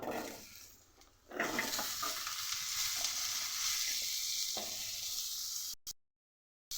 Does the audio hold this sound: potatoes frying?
yes